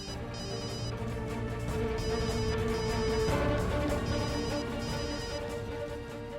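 A telephone ringtone plays repeatedly from incoming calls, a steady electronic melody repeating for several seconds at moderate volume with no talking.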